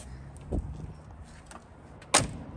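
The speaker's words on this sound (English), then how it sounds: "Just the way the door shuts, you can tell this is a solid car." A 1963 Plymouth Sport Fury's door shuts with one solid, fairly sharp thud after an earlier softer knock, set against quiet background.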